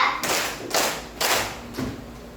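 A classroom of children claps together in a steady rhythm, four crisp bursts evenly spaced about half a second apart, close and clear, with no voices over the claps.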